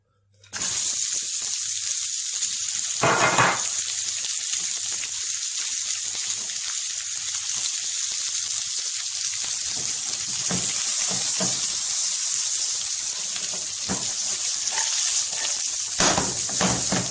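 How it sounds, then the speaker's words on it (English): Onions, garlic, ginger and a bit of celery fry in a hot pan with a constant hissing sizzle, broken by a few sharp clinks and scrapes near the start and end, with no talk. "This is onions, garlic and ginger going in."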